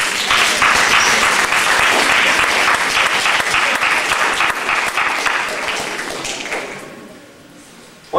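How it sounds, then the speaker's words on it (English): Audience applause after a high school jazz band concert, loud steady clapping that gradually thins and dies away toward the end. "I think you guys need to give them a round of applause."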